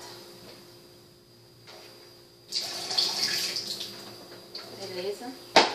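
Boiled potatoes are drained, with water suddenly rushing and splashing into a sink after a quiet start, close and moderately loud, ending in a sharp clatter.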